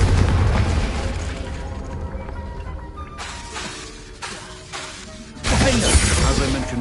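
A Confringo fire spell bursts in Hogwarts Legacy, a loud crackling blast that swells over a rumbling roar, with a second heavy burst near the end and no talk.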